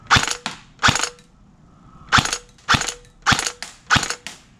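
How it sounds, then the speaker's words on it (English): An ARES PPSh-41 airsoft submachine gun with electric blowback fires semi-auto: six sharp mechanical snaps with the bolt clacking back, spaced in two groups, close and loud with no talking. "I don't know if you can hear it, but I'm sure you can see it. This electric blowback right here."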